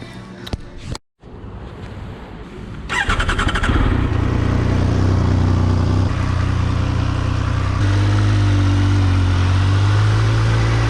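A Triumph Speed Triple 1200 RS motorcycle engine runs while riding: a brief near-silent gap, then a loud, steady, throaty drone that builds and holds with a prominent low hum, close and continuous, with no talk.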